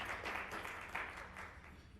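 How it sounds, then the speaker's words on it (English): A luncheon audience at the Texas Tri-County Chamber of Commerce April gathering applauds: a dense, steady wash of many hands clapping at once, moderately loud, with no break for the whole stretch. "Give yourselves a round of applause."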